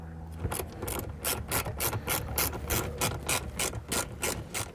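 A screw being driven to mount a Jensen MS5006WR recessed marine speaker, a quiet, close rapid ratcheting whir with regular pulses over about five seconds.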